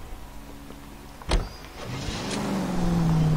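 A car in the L.A. Noire video game: a sharp thud like a door shutting, then the engine rising into a steady hum as the car pulls away and drives on.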